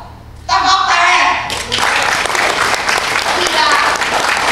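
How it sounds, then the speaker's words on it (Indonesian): Audience applause in a hall at a political talk, broad steady clapping that swells after a quiet start and carries on loud and dense throughout. "Tepuk tangan."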